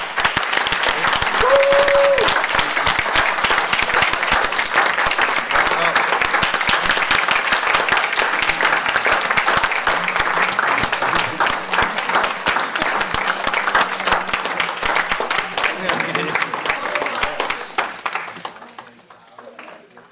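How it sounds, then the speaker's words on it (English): An audience at a school board meeting gives a warm, sustained round of applause for honored educators, dense many-handed clapping lasting about twenty seconds, with brief voices underneath, before fading out at the end. "Please join me in giving them a warm round of applause."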